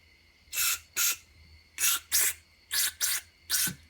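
Seven short, sharp hisses of carburetor cleaner sprayed through the jet of an outboard motor carburetor come in quick bursts, grouped in pairs, close by against a quiet background.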